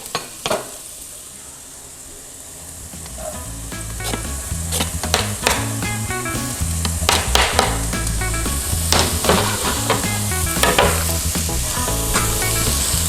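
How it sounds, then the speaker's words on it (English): Onions sizzle in hot oil in a pan over medium heat, a steady crackling hiss with sharp clicks and scrapes of stirring that grows busier midway, with no voices. "once you hear the onion sizzling, you want to mix them for a second"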